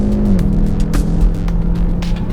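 A hatchback car engine drones steadily at high revs as it laps a race track, its pitch dropping with a gear shift early on, then holding a loud, continuous roar.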